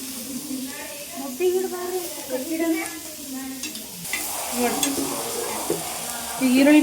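Food frying in a home kitchen pan with chillies, giving a steady hiss and sizzle that swells partway through, with occasional stirring, heard under continuous nearby talk.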